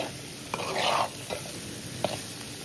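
Onions fry with chili powder in a pan, a steady sizzle broken by a few scraping stirs of the spoon, close and with no talking.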